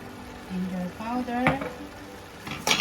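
Chicken with garlic, ginger and spice powders is stirred in a pan with soft scraping and light sizzling under a voice talking.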